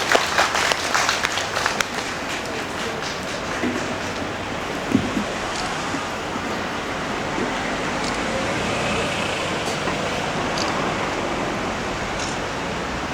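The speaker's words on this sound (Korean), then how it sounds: "여러분 뜨거운 박수 부탁드리겠습니다" Crowd applause rises at an outdoor memorial rally for COVID vaccine victims in Gwanghwamun, Seoul, a steady broadband wash of clapping mixed with city traffic noise, strongest in the first couple of seconds and then settling into a continuous hiss.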